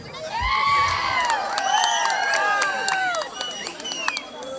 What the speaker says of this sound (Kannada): ನಿಮಗೆಲ್ಲ ನೀವೇ ಒಂದ್ಸರಿ ಚಪ್ಪಾಳೆ ಹೊಡ್ಕೊಳ್ಳಿ